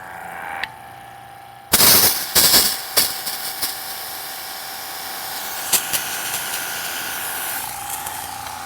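A Kranzle or Comet pressure washer bursts into loud spraying after a brief quiet start, a harsh hissing jet with a few sharp pulses early on, then settling into a steady roar with the pump running underneath.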